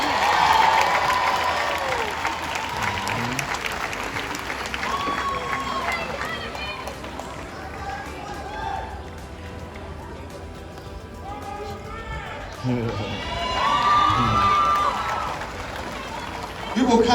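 A graduation-day audience at Simon Gratz High School, class of 2021, claps and cheers for award winners in a steady, fairly distant wash of applause, with a speaking voice at the start and again near the end.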